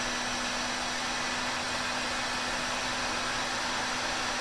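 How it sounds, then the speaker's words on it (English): A heat gun blasts on high while melting a heat shrink solder butt splice, a constant loud rushing hiss of air over a steady fan hum that stays even from start to finish. "Now I have the heat gun on high."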